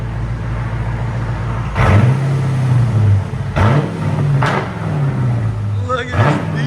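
A Jeep Grand Cherokee 5.7L HEMI V8 revs through its exhaust in three loud, close blips, each rising to a roar and settling back to a rumbling idle.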